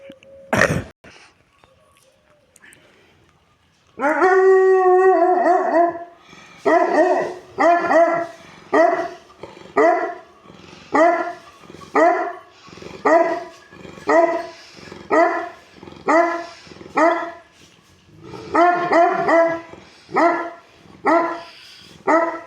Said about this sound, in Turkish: Bak hem kurt gibi böyle sesi uzatarak uluyor hem de havluyor.